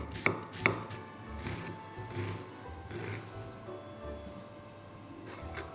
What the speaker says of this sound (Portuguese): vamos picar a nossa cebola